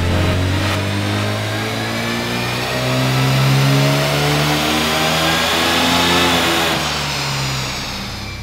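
A supercharged Mini engine revs hard on a power run, the loud engine note climbing steadily in pitch, then dropping back and rising again, close and continuous with no talk.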